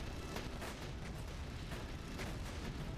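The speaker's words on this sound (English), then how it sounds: "Who's shooting at me?" Gunfire aimed at the player's aircraft in the video game Air Conflicts: Secret Wars, a dense, continuous barrage of rapid booming shots and bursts mixed with rumbling engine noise, no talking.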